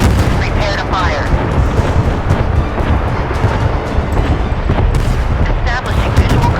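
Heavy naval guns firing in the warship combat game Force of Warships, a dense continuous roar of booming artillery and rumbling explosions that stays loud throughout, with faint radio-style voices underneath.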